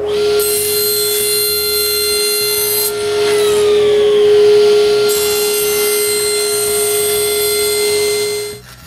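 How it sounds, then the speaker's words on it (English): A table saw cuts straight lines in plywood with a strong steady motor whine, the blade's high hiss dropping out briefly mid-cut as the pitch sags, then resuming before the saw spins down at the end. "I glue the pattern on a piece of plywood and cut the straight lines using the table saw."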